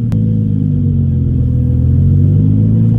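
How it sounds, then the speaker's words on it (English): Steady low road rumble inside a moving Nissan 350Z with an interior trim piece removed, a constant droning hum from tires and drivetrain filling the cabin without break, loud and close, no talking. "got a lot of road noise"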